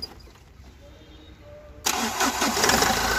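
A Mahindra Scorpio diesel engine with a fuel injector back-flow leak and hard starting cranks faintly, then catches and fires into a loud, rough idle that quickly builds.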